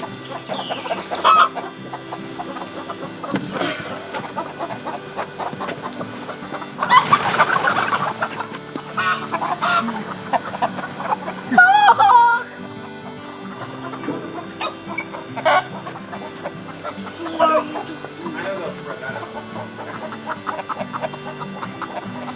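Hens clucking steadily in a backyard coop's nesting box, close and continuous, with overlapping chatter, a few louder squawks midway and soft rustling beneath.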